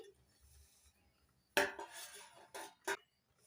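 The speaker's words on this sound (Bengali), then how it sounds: "এবার ঢাকনা তুলে নিচ্ছি" A metal lid comes off a cooking pot while cauliflower pakoras fry, giving a sharp clattering clank followed by two shorter metallic knocks. The sounds are close and stand alone over a quiet background.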